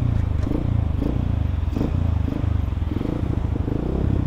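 A modified Yamaha Vixion supermoto motorcycle idles close by through its exhaust, a loud, deep, rapid throbbing burble that stays steady with small revving swells.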